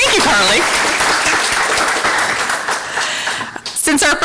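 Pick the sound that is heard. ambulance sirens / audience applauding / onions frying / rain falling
audience applauding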